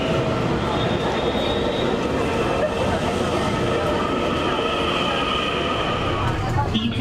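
A passenger train runs with a loud, continuous rumble and rattle of wheels on rails, a steady roar filling the whole stretch with a faint squeal riding above it.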